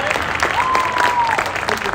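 Applause from a marching band gathering as the drumline coordinator is introduced, a steady dense clatter of clapping throughout, with a voice and a tonal whistle-like line briefly over it.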